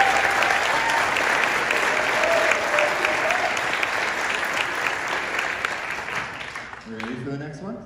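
An audience at a Collinsville High School band Christmas concert gives sustained, dense applause that slowly tapers off, and a voice begins speaking at the very end.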